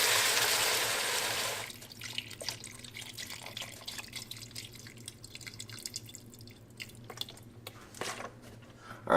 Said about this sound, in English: And now we're going to add our chicken stock or chicken broth.